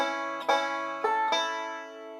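A banjo plays the opening notes of Bill Cheatum, a few bright plucked notes and a quick pair whose twangy tones ring on. It is close and solo, with no talk.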